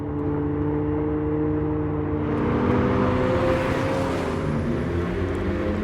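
A steady synthetic engine drone from an Abarth 500e electric car, with layered humming tones, rises slightly in pitch as it drives, loud and continuous with no talking.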